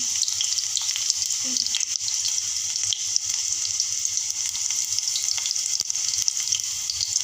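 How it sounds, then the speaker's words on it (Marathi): Onion sizzling as it fries in a pan, a dense, loud, continuous crackle close up, with only a few faint scrapes and no clear talk. "कांदा आपला छान असा मस्त तळतळत आहे"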